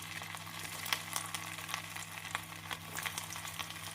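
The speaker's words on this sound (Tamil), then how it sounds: "நாம் எண்ணெய் நன்றாக காயவும் கொல உருண்டையை போட்டு விடலாம்" Mutton kola balls deep-frying in hot oil, a steady, soft, close sizzle with scattered crackles and pops and a faint low hum underneath, with no voices.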